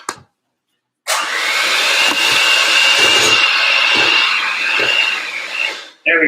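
Electric mixer whizzing devil's food cupcake batter with cocoa, a loud continuous whirring burst of about five seconds that starts abruptly after a short quiet gap and then cuts off, with speech around it.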